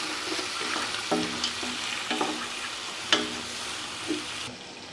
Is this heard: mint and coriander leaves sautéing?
yes